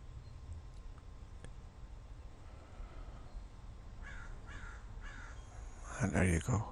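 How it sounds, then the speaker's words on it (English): A crow lets out a single tired caw near the end after a long stretch of quiet outdoor background hush on a hot day. The call is short, fairly close and stands alone. "A crow finally gave out some sort of tired caw."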